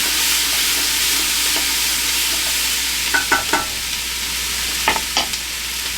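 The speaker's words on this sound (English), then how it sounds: "Get my little wooden spoon and get that stirred around." A wooden spoon stirs hot grease in a pot, the oil hissing softly and steadily while a few clustered scrapes and clacks of the spoon against the pot rise above the sizzle, with no voices.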